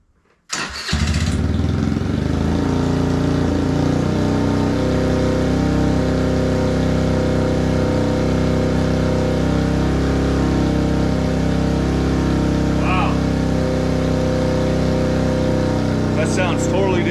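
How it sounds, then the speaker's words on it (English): A 2021 Kawasaki KFX50 ATV engine cranks and fires up, then settles into a loud, throaty, steady idle from a Big Gun EVO aftermarket exhaust, with a couple of small blips. "let's see this how it sounds with the new exhaust on"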